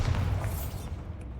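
A Bombarda blasting spell goes off in Hogwarts Legacy, a booming low thump that rolls out and fades over about a second, followed by a faint high ring.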